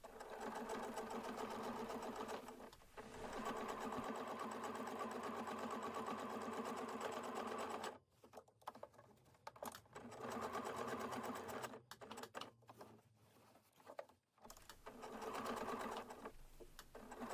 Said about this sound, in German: dann geht's nochmal an die Nähmaschine